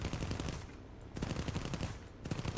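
Aircraft guns fire on an IA.58A Pucara in a video game, three loud rapid bursts of machine-gun fire separated by short pauses, close and without talking.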